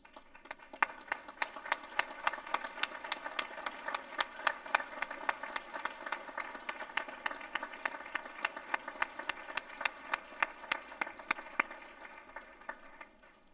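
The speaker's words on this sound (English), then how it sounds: "please join me in giving these supporters a wonderful standing ovation" An audience gives a standing ovation at a convocation ceremony, a dense crackle of many hands clapping that sustains throughout, moderately loud with individual claps standing out.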